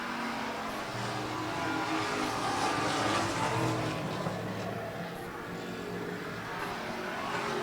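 Race cars battle on a street track in a Strictly Street race, engines roaring and revving as the pack passes, a loud sustained drone that swells and fades with the field.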